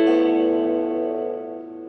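Electric guitar through a Line 6 AX2 amp modeler set to a Fender Deluxe Reverb model: a single sustained chord rings out alone and slowly decays with a reverb tail, loud and close.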